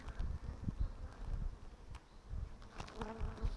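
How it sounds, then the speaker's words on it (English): Honeybees from a small, calm colony hum softly around an open hive, a low steady buzz with intermittent louder passes of individual bees close by, faint rustling in the background. "See, they're very quiet, nice peaceful bees."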